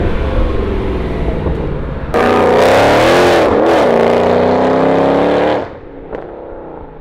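A heavily modified Weistec-built 2009 Mercedes C63 AMG making about 680 wheel horsepower rumbles at a loud idle, then surges into a hard, roaring acceleration with rising engine pitch for a few seconds before easing back off.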